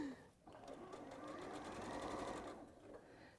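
A sewing machine runs in one steady burst as it stitches fabric around a curve, its motor whirring with a fast, even needle rhythm. Close and moderately quiet.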